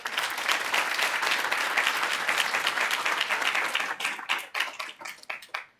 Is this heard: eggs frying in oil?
no